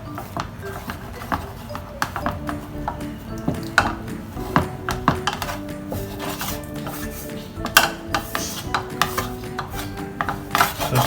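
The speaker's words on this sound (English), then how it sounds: "keep on mixing until it forms a dough" A spoon scrapes and clanks against a pan while rissois dough for a Goan chorizo snack is mixed, producing irregular, close metallic knocks and rubbing scrapes over a low background hum.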